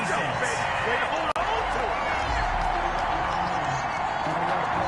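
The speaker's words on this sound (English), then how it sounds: "Well, the crowd doesn't like that." Football video game crowd reacting to a penalty flag, a dense continuous roar of booing and crowd noise, loud and steady, cut by one brief dropout midway.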